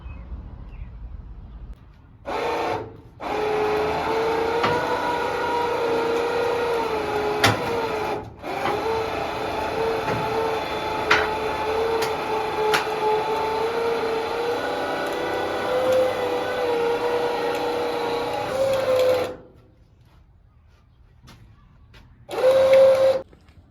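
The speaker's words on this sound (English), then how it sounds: "Gonna try out the Badlands winch again." A Badlands winch hauls a 1953 Austin Healey onto a new trailer, giving a steady mechanical whine that runs continuously for about sixteen seconds, pauses briefly, then returns in a short final burst; no one talks.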